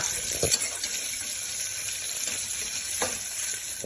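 Onions fry with green chilli paste in hot oil for a mixed vegetable curry, giving a steady, close hiss and sizzle throughout, broken by a few brief louder stirring scrapes.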